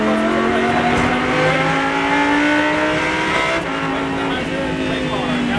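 A Lamborghini Super Trofeo race car screams around the Exotics Racing track in Las Vegas, engine held high and steady from inside the cabin, pitch climbing and dropping through shifts while an instructor talks over it.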